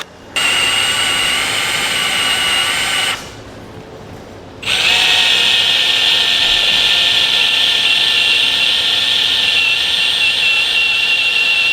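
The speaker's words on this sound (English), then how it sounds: "So take our bit and run that through" A power drill runs a bit through a hole in the frame of a 2018 Ford Edge during a base plate install, loud and close with a steady high whine, briefly easing off to a lower tone before spinning back up.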